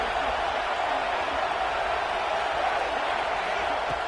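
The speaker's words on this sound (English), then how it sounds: "Listen to the crowd energy here in the early going" A stadium crowd in the football video game NCAA 26, a steady wash of roaring crowd noise filling the whole stretch at an even level.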